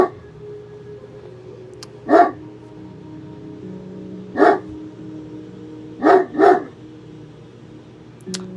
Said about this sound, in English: I do not know what he's barking at.